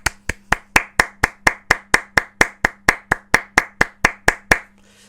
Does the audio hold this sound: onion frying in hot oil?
no